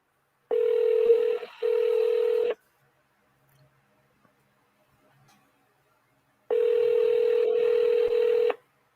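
Telephone tones while placing a call: two bursts of steady tone separated by several seconds of near silence, clear and close with no talking.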